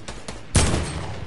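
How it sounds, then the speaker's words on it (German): Gunfire in the Fortnite video game: a couple of faint distant shots, then a sharp, loud close report that rings out briefly, with no voices over it. "Oben einer auf der Seilbahn schießt einen Schuss"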